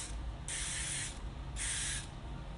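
A spray bottle fires two separate, steady bursts of mist onto a lace closure, each lasting about half a second, close and soft in a quiet room.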